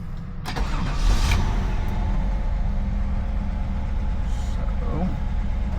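A 1955 Chevrolet 210 with an LT1 engine cranks and fires up, then settles into a steady close idle with a deep, even rumble, while faint talk comes in at moments.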